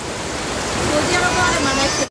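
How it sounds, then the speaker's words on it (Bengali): A dense, steady rush of heavy rain, loud and close, which cuts off abruptly at the end. "এখানে আমরা সবাই বসে রয়েছি বৃষ্টির কারণে"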